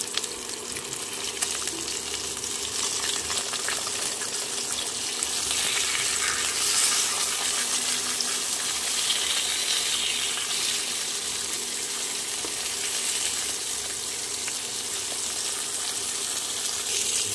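Flipped catla fish pieces sizzle in hot oil in a wok, a dense, continuous close-up frying hiss with scattered pops and occasional scraping. No one speaks.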